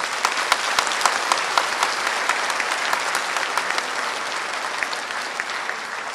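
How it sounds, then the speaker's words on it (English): An audience claps in sustained applause, a dense steady patter of many hands with a few sharper individual claps standing out, without voices. "Let's give a big applause for them."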